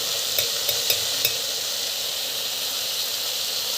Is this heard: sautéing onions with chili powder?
yes